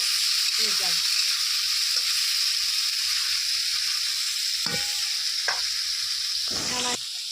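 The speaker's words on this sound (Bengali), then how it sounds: "এবার আলুটা সুন্দর করে ভেজে নিই। লবণ দিলে আলুটা তাড়াতাড়ি একটু ভাজা যায়।" Salted potatoes fry in a pan, a constant bright hiss of hot oil running throughout with a few clinks and scrapes of a spatula stirring, close and unbroken.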